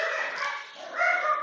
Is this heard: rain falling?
no